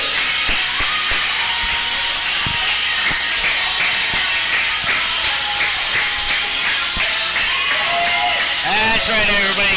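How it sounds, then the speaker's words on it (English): Audience applause and crowd noise at a live wrestling event, scattered claps over a continuous roar of the crowd, with a voice speaking over the arena din. "I suppose I can stand up and clap."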